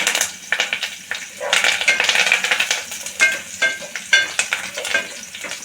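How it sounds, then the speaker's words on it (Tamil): Curry leaves dropped into hot oil for a Tamil brinjal kadayal, crackling and popping in sharp bursts alongside stirring clatter in the pan, close and fairly loud. "கருவேப்பிலை சேர்த்துருவோம்"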